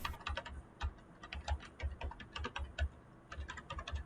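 Typing on a computer keyboard while entering an email address to create an app account, a quick uneven run of soft clicky keystrokes at close range, with no talking.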